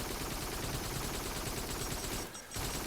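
Gunfire in the VR shooter Farpoint, a dense, continuous barrage of overlapping shots and noise with one short dip near the end, moderately loud and without voices.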